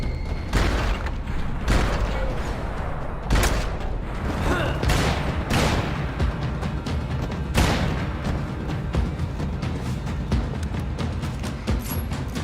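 Gunfire rings out in the Max Payne 3 video game, repeated loud shots and bursts spread unevenly across the stretch, with an excited voice talking over the shooting.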